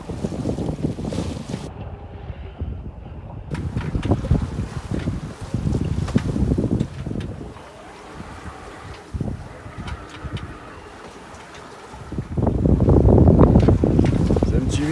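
Gusty wind buffeting a sailboat at sea off Corsica, with loud rumbling microphone wind that surges and eases in waves, stronger bursts at the start and end, and water wash beneath.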